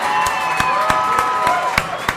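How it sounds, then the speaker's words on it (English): A rowdy crowd at the Hoggsbreath bar cheers and applauds its owner Tommy Durray, with loud sustained whoops and shouting over scattered claps, some sharp claps standing out. "give Tommy Durray a round of applause"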